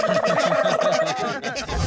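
Cartoon chicken clucking and squawking close by in a fast, loud string of calls that runs without pause through the whole moment.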